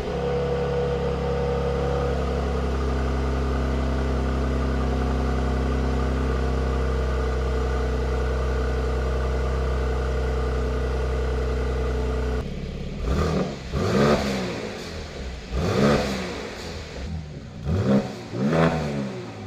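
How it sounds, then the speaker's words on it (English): A Mercedes-AMG C43 with sports exhaust idles with a deep steady drone, then is revved several times in sharp rising and falling bursts, loud and close. "you can rev it and it sounds really, really good"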